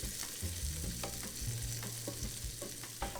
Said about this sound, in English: She drops the pieces in her sauté pan and fries them to release their fat.